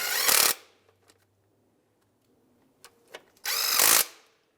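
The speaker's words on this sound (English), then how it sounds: "So now we're going to tighten up these bolts here for that bracket." A power tool tightens bracket bolts on a 2003-2011 Honda Element during throttle body replacement. It gives two loud, close whirring bursts, each about half a second long, with faint clinks between them.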